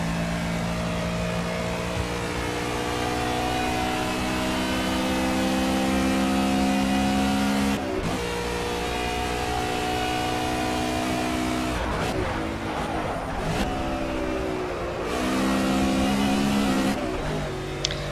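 A GT touring race car in Project CARS at Road America, engine droning loud and close with rising tones as it accelerates, broken by sharp dips at gear shifts, around 18 seconds with no talking.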